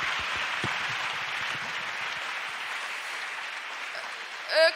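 A church congregation gives steady, loud applause that fills the room for several seconds, with a voice breaking in briefly at the end.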